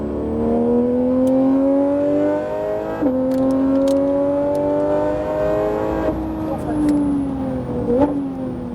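A Porsche GT3 RS accelerates hard on the Le Mans Maison Blanche circuit, its engine note climbing loud and close through several upshifts over a steady engine roar, with a voice talking over it.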